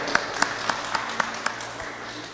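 Sparse, rhythmic clapping: roughly seven evenly spaced claps at a moderate pace, fading slightly toward the end.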